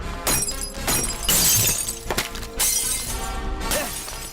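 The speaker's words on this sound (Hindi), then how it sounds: "सब तोड़ दो, मारो पत्थर।" Glass windows shattering again and again as stones are thrown during a riot in a South Indian action movie, with loud crashing bursts of breaking glass overlapping one another in a dense, chaotic run.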